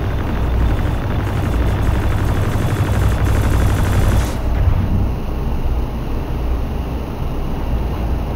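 Ship weapons fire continuously at a target in the space combat game Star Citizen, a dense rumbling barrage that holds steady and loud throughout, with a high electronic tone joining partway through.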